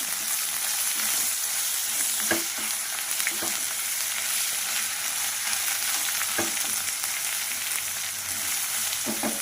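Ivy gourd frying in a pan with turmeric and salt, a steady bright sizzle throughout, punctuated by a few distinct spatula knocks as the pieces are stirred; no talking.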